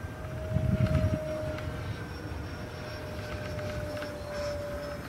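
An E-flite Leader 480 RC airplane flies overhead, its small electric motor giving a thin steady whine at moderate distance, swelling briefly as it passes closer, with some wind rumble.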